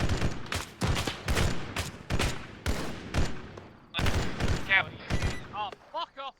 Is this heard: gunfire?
yes